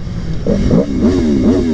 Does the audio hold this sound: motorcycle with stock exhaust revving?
yes